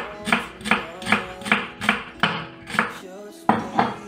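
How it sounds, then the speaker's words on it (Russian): A knife slices onion quarters into thin strips, about ten close, evenly spaced cuts knocking on a cutting board in a quick steady rhythm, with no voices. "Сначала разрезаю пополам луковицу, потом половинку еще на две части и нарезаю такой вот тонкой соломкой."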